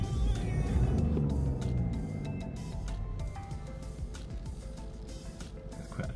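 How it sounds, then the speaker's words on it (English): A BMW 116d diesel engine starts and settles into idle with a steady, loud, low rumble that has a tractor-like clatter and continues without a break. "it's quite a tractory kind of noise, just typical diesel rumble"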